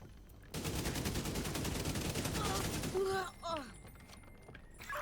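Video game gunfire, a sustained rapid burst of dense shots for about two and a half seconds, followed by sparse pops and chirping effects, with some talk faintly beneath.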